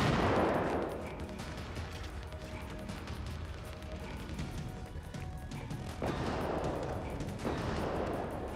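Gunfire in the video game Generation Zero comes as a sharp burst at the start and two more bursts later, with rapid crackling shots over a busy, noisy game background.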